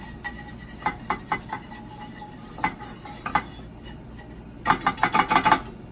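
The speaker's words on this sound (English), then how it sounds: "we're going to whisk that and cook that over medium for about 1 minute" A whisk works flour around a pan over medium heat, giving scattered metallic taps and scrapes, then a quick burst of rapid clinking strokes near the end.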